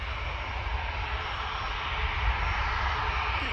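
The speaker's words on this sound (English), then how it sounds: "Right, Ryanair's coming down." A Ryanair airliner descends to land at Manchester Airport in hot weather, its engines a steady, loud, broadband roar that swells slightly toward the end, with no talking over it.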